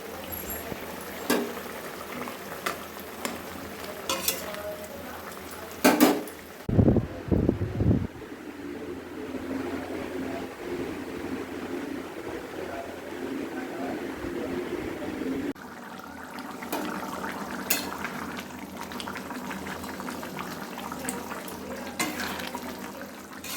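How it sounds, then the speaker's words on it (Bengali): Rice and meat cook in pots on a home stove, a steady low bubbling and hiss with a brief burst of clattering partway through before the even simmer resumes. "ভাত বসে দিয়েছি মাংসটা হচ্ছে"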